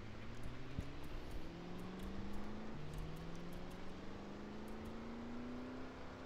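Car in the Project Zomboid game cruising onto a highway after a drift, steady engine drone rising and shifting in pitch through gear changes, continuous and fairly close with no talk.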